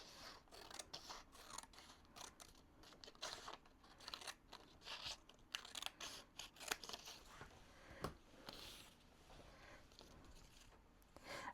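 Scissors snipping through paper while journaling, a quick run of close, crisp cuts with short pauses between them, fairly quiet, no talking.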